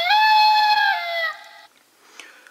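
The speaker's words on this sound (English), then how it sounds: "pressing the button on the back, you can get its attack sound" A Ninninger Shuriken Souchaku Ninnin Buckle toy plays its electronic attack sound effect, a loud tonal, rooster-like cry lasting about a second and a half, then fading into quiet with a faint click.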